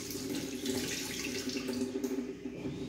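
Tap water runs steadily from a kitchen faucet over a freshly boiled free-range chicken, splashing continuously at close range with no talk.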